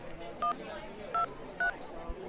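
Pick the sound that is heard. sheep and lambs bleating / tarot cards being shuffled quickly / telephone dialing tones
telephone dialing tones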